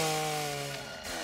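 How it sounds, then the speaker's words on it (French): A motorised hedge trimmer in a horror film drones steadily with a buzzing engine whine that drops slightly in pitch toward the end, fairly loud and with no voices. "C'est pas une tronçonneuse, bordel, c'est un taille-haie."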